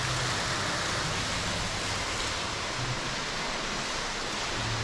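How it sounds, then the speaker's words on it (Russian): Rushing water fills a hotel lobby at a resort in Kemer, Turkey, making a constant, broad hiss like a fountain or cascade, loud and unbroken, with a faint low hum beneath it. "Смотрите, шум воды."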